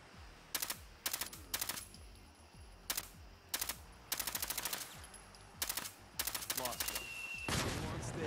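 Bursts of rapid automatic gunfire in Fallout 4, fairly close, come in short volleys separated by brief pauses, with a longer sustained stretch near the end; the shots are sharp and crackling.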